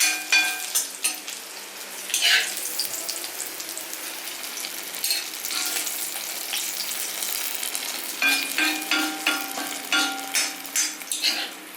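Jackfruit seed curry with dried fish is stirred in a pan of coconut oil, a soft continuous sizzle broken by scraping spoon strokes and occasional clinks against the pan.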